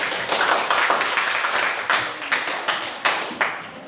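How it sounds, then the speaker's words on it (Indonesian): A classroom full of students claps together in sustained applause during a teaching practice lesson, with dense overlapping hand claps and a few sharper accents, loud and close throughout. "Sebelumnya dulu berikan tepuk tangan untuk kita semua."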